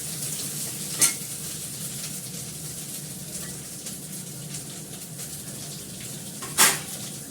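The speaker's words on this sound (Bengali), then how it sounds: "অল্প তেলে একটা ছোট আলু দিয়ে করছি।" A small potato fries in a little oil with a low, steady sizzle. Two sharp scrapes or clinks of a utensil against the pan stand out, one early and one near the end.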